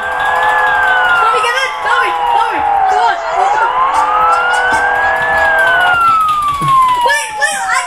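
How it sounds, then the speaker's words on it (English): A police siren in a Roblox video game wails continuously, sweeping up and down in pitch, loud and close, with engine noise and crowd chatter underneath. "I put the sirens on."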